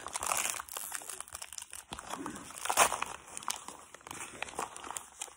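Gift ribbon crinkles and rustles as it is handled, a close, busy crackling and crumpling that runs steadily with no talking over it.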